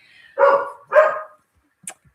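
A dog lets out two drawn-out, loud bark-howls close by, a short pause between them, then a faint yip trails off near the end.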